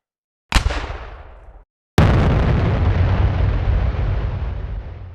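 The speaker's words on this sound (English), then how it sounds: "The terrific blast from Bucky's cannon blows the launch and its Asiatic crew to bits." A cannon blast from a submarine opens with a short sharp report, cuts out, then erupts into a heavy booming explosion that rumbles and slowly decays, loud and close with no speech.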